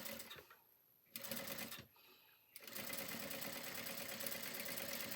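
Sewing machine running in bursts while stitching two strips of piping together under a single presser foot, with short pauses between runs and a steady whirring hum, close and alone.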